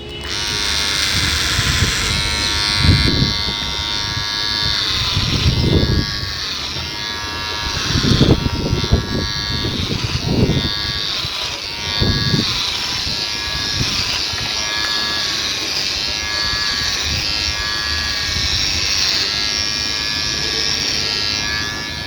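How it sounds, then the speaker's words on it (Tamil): An electric hair trimmer runs with a steady, close, buzzing hum throughout. Its pitch dips briefly at several moments as it cuts through hair. "ட்ரிம்மர் வச்சு எடுத்துட்டேன்"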